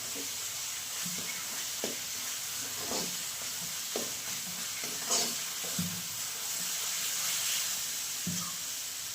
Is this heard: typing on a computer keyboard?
no